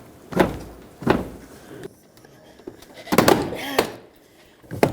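Interior door panel of a Dodge Grand Caravan pried off, its clips giving several sharp pops and thunks spaced across the moment, close and loud, with a voice speaking briefly between them.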